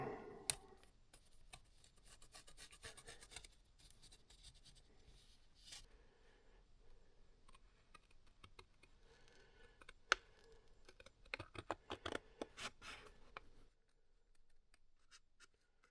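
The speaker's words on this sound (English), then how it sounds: "We're going to trace out our gasket, and we'll cut it out" Someone traces a gasket shape onto old air filter cardboard and then cuts it out for an RM125 build, giving faint pen scratches followed by soft scissor snips and rubbing, quiet and close with no talk.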